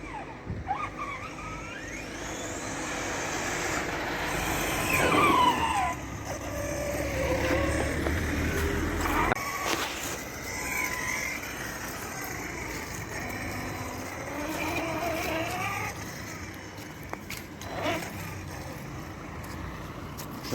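A LOSI radio-controlled car's engine revs and accelerates: a loud, steady, buzzing drone with rising and falling pitch sweeps, continuous for the whole stretch with no clear talk.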